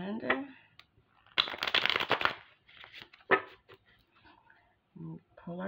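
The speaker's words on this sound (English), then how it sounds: "we're gonna give this a few more shuffles" Tarot cards are shuffled in bursts of soft riffling and slapping, close but quiet, with pauses and low background noise in between.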